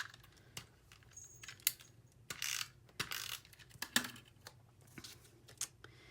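A snail tape runner lays adhesive onto an Easter bunny tag, producing a quick run of close, dry clicking and ratcheting bursts with scattered taps and short rustles.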